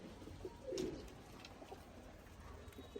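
Pigeons kept in a loft or pen coo softly, with one low throaty coo standing out briefly against a faint steady background hum.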